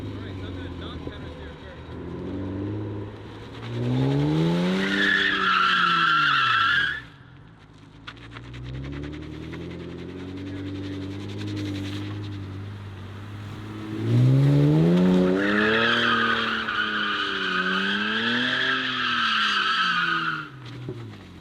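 Car drifting on pavement, engine revving up in rising and falling sweeps with sustained tire screech in two long bursts, a quieter stretch of engine idle between them, heard from close by.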